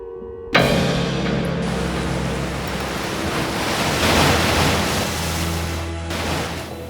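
Steady rushing of ocean waves breaking and washing, broad and continuous with wind noise, no voices.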